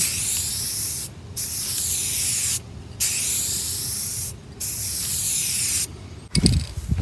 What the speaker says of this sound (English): So spray painting doesn't take long.